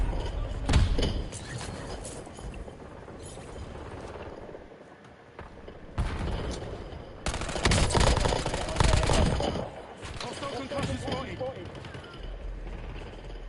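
Heavy bursts of gunfire, both automatic and single shots, crackle loudly and close at intervals, with a brief quiet lull and some talking in between.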